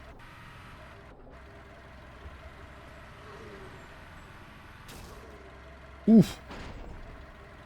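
A vehicle in the survival game SurrounDead rumbles along at a low level, then takes a sudden loud hit about two-thirds of the way through, while someone speaks quietly over it and gives a short exclamation.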